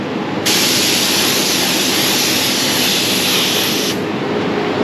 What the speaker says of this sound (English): to spray gel coat that was not thinned heavily